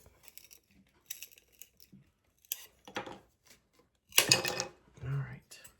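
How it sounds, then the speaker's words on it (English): Material for a rustic snowman and snowflake craft is cut to length with scissors, giving short snipping and crinkling bursts up close, separated by brief pauses. "So let's cut it to length first."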